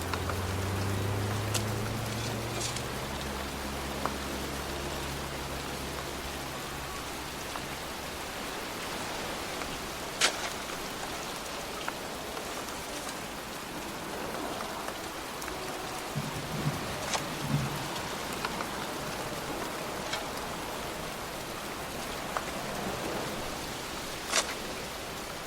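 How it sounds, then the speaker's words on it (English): Rain falling outdoors in the video game Heavy Rain, a steady wash of drops with a low rumble at the start and scattered sharper drips and taps, even and continuous without voices. "It's cold. It's raining."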